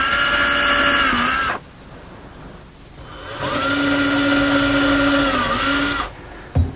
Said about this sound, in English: Here I'm drilling holes in the draw front for the handle.